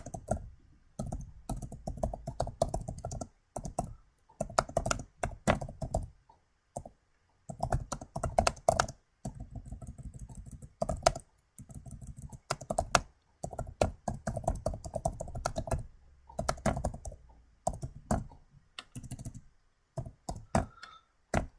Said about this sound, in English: I would start typing information.